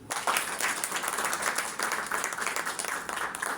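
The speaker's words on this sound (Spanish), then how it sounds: "ahora sí pueden aplaudir" Audience applause at a university book launch at the Universidad Autónoma de Santo Domingo, a dense burst of many hands clapping, close and sustained across the whole stretch.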